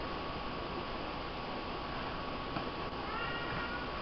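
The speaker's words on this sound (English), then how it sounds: "You guys are going to hear my kitty." A cat meows a few times near the end, over a steady whirring microwave hum that fills the whole clip.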